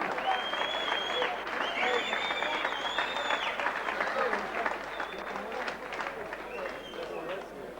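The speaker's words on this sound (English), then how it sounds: "And a big round of applause" Crowd applause at a boxing event fills the arena, steady dense clapping with a broad cheering roar that holds throughout and eases only slightly toward the end, with voices carrying over the crowd.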